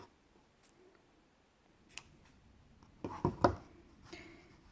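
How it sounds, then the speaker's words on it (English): Scissors snip through blue crochet yarn, a few quick close clicks around the middle of an otherwise quiet moment, with faint handling sounds before. "cut off the blue yarn."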